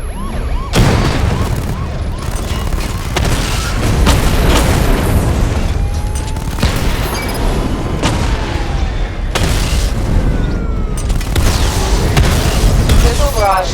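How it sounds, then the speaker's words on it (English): Rapid missile barrage explosions from the Batmobile in Batman: Arkham Knight, loud and continuous booms and blasts layered over game music and effects, with a voice speaking at points. "Charge the missile barrage to level 2 to destroy up to 4 targets at once."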